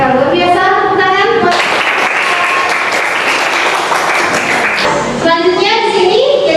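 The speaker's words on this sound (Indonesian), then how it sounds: "luar biasa, tepuk tangan." Classroom applause from students during a lesson, loud bursts of clapping in the middle with voices of children and a teacher speaking before and after.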